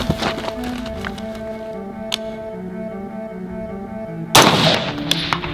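AR-15 rifle shots at long-range outdoor targets: a few faint, sharp cracks spaced apart over a steady background, then one louder, closer report near the end.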